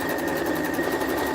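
A domestic sewing machine running steadily while backstitching a patchwork duffle bag, a continuous close whirring hum with a fast even needle rhythm and no talk.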